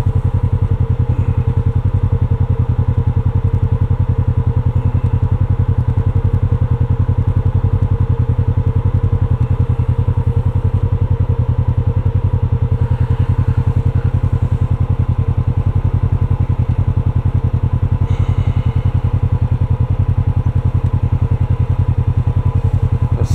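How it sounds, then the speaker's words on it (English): Motorcycles ride behind a Polaris side-by-side on the Alpine Loop near Silverton, Colorado, their engine drone steady and loud under constant vehicle rumble and wind throughout. "Oh, that's that motorcycle and the other ones that took off behind us."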